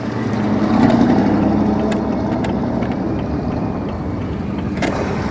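Steady road traffic rumbles at Frontier Village, a busy shopping area with cars turning and pulling out, forming a loud, continuous engine drone with passing vehicles and no talk.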